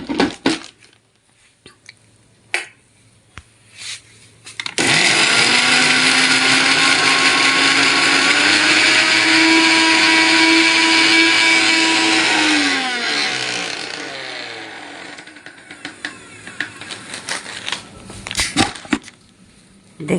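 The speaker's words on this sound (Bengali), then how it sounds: "এই যে মিক্সি মেশিনটা নিয়ে আমি মিক্সি মেশিনে পেস্ট করতে যাচ্ছি" An electric mixer grinder whirs loudly for about eight seconds as it grinds a spice paste with fried puti fish, with a steady high motor whine that drops in pitch as it winds down, framed by quieter clunks and handling noises.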